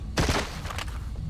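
Gunfire in James Bond 007: Blood Stone, a sharp close burst of shots followed by a couple of fainter reports fading into room ambience.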